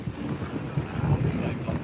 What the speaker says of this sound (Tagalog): Wow, it's really windy